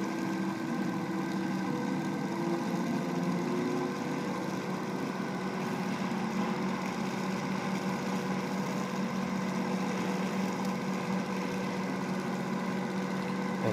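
Brushless DC motor built with dual stator poles, supplied at 16 volts and drawing about half an amp, runs with a steady whirring hum and fixed tonal lines, close and constant throughout with no talk.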